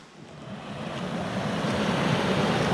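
Water rushing at a creek crossing in the Bridger Wilderness, a steady broadband wash of flow that swells slightly, continuous and fairly close with no voices.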